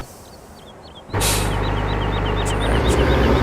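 Farm tractor in the video game Farming Simulator 2015, its engine starting up with a sharp burst and then settling into a loud, steady diesel drone, close and with no talking.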